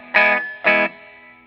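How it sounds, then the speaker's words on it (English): Two short chords on an electric guitar played through a Marshall JTM60 amp with the master volume turned down and preamp distortion driven up. Each chord rings briefly and decays, and there is quiet hum between them. "start pulling up the regular volume and get some good preamp distortion"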